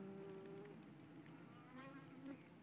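Honeybees fly at the entrance of a hive log, drones among them, making a dense continuous buzzing drone close by with individual bees whining past.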